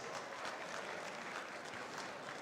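An audience at a charity auction applauds in a steady, continuous wash of clapping, fairly faint and distant, without a break.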